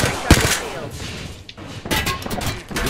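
Rapid gunfire from the Apex Legends video game sounds in loud, dense bursts, including a sharp close shot near the start. The shooting continues almost without pause and is mixed with game effects.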